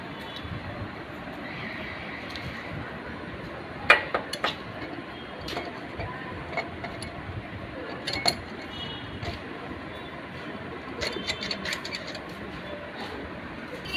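Scattered light metallic clinks and taps ring out while a cylinder is fitted onto a Hero Splendor motorcycle engine in a workshop, faint and irregular over a low background hiss.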